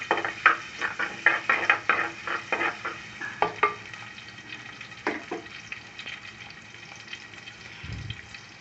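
Shallots and garlic go into hot oil and fry with a crackling sizzle, broken by a run of stirring scrapes and clinks in the pan that trail off into quieter frying.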